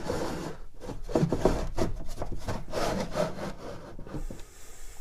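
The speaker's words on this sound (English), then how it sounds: "what I need to do is cut the ends on these because I haven't trimmed them to fit" Hand-sawing the ends of a curved wooden drawer divider to trim them to fit a tool cabinet, with a steady back-and-forth rasp of strokes lasting nearly the whole span, close and moderately loud, without speech.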